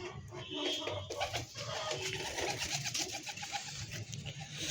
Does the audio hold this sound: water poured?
no